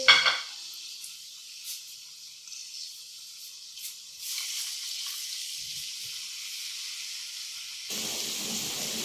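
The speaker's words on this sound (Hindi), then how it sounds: "प्याज को हम 2 मिनट तक फ्राई करेंगे।" Three medium chopped onions fry in a pan for chicken macaroni, a soft hissing sizzle that starts faint after an opening clatter and grows louder and brighter toward the end.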